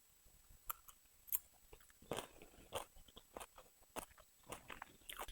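Close, crisp crunching bites and chewing of a fresh salad with meat and crunchy vegetables, irregular crunches repeating over several seconds with no talking.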